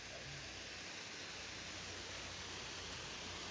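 A waterfall on a hiking trail roars as a steady, dense wash of rushing water, constant and enveloping without a break.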